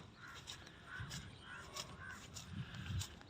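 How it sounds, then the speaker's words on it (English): A gathered flock of crows caws repeatedly from nearby on a campus in drizzle, the harsh calls recurring in short bursts over a steady outdoor background. "Look at the number of birds who have gathered right now in front of me."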